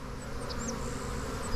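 A honeybee swarm in Bellingham, Washington, gives a dense, steady buzz close by, with a few individual bees whining past against the constant drone.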